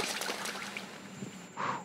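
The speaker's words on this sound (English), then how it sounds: "Water! Great. That's what I want. I want water." Water trickles and splashes steadily in the VR game Scanner Sombre, a soft continuous wash with a brighter splash near the end, with no speech over it.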